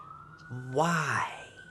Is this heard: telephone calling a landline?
no